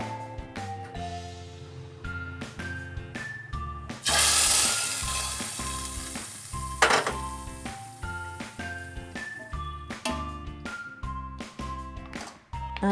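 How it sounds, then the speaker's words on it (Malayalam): Hot coconut oil tempered with fenugreek and mustard seeds pours into a Kerala manthal fish curry with mango and ground coconut, giving a short loud sizzling burst partway through, set against steady background music. "അതിൽ വെളിച്ചെണ്ണ ഒഴിച്ച് കൊടുക്കാം. ഇത്തിരി ഉലുവ ഇട്ട് കൊടുത്തിട്ടുണ്ട്. കുറച്ച് കടുക്. ഇനി നമുക്കിത് കറിയിലേക്ക് ഒഴിച്ച് കൊടുക്കാം"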